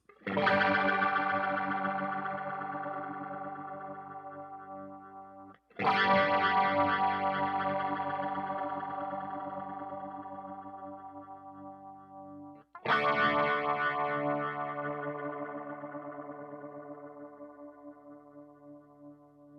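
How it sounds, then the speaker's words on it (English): Three strummed electric guitar chords through a Boss ME-90 rotary speaker effect, each ringing out and slowly decaying, with a swirling, warbling modulation as the rotary speed ramps up. "I'm gonna strike a chord, and then I'm gonna ramp up the speed of the rotary"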